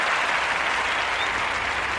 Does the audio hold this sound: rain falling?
no